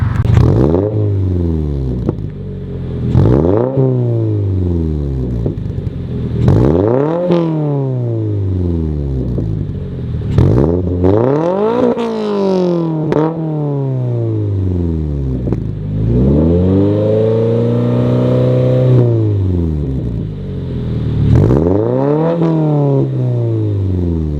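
A 2022 Toyota GR86 / Subaru BRZ flat-four with an MBRP single exhaust revs repeatedly, each sharp climb to a high-pitched rasp followed by a falling drop, loud and close with no talking.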